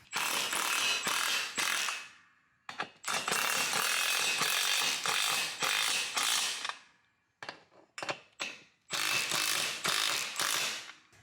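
Ratchet tightening a fastener on metal parts of a Fox, a run of quick clicking bursts with short pauses between them, loud and close with no talk.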